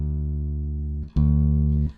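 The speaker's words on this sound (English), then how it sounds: "That's a normal bass sound" A plain, unfiltered synth bass holds one loud, sustained low note, cuts off briefly, then sounds again with a sharp attack before stopping, with no voices over it.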